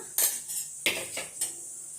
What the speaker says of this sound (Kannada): ಈಗ ಇದರಲ್ಲಿ ಸ್ಮ್ಯಾಶ್ ಮಾಡ್ಕೊಂಡ್ಬಿಡೋಣ ಸ್ವಲ್ಪ